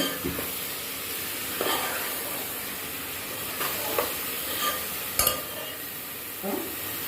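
Ginger, garlic, onion and tomato sauté in a pan for Tirunelveli-style chicken biryani, making a steady low hiss with several light stirring scrapes and one brief metallic tap.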